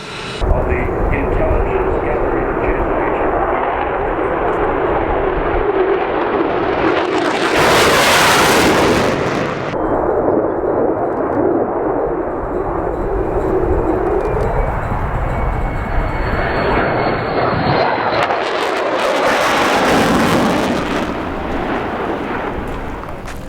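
Loud, continuous roar of aircraft engines at the Avalon Airshow 2019 flight line, with jets swelling as they pass overhead, broad rumbling noise filling the whole stretch.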